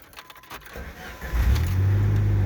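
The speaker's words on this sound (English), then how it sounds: "I'm going to start the car up for you." A 1988 Shelby CSX-T engine cranks and fires up about halfway through, following faint rattling like keys, then settles into a steady, close, rumbling idle through its muffler with the air conditioning off.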